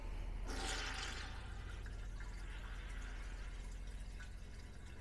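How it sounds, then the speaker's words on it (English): Toilet flushing in a Jayco NorthPoint 310RLTS travel trailer during dewinterizing: a quiet rush of water starts abruptly, then settles into a steady low gurgling refill with no talking. "Go ahead and flush the toilet."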